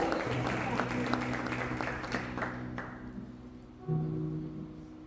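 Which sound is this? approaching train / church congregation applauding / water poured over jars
church congregation applauding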